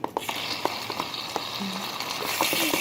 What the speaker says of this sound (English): Stir that mess up.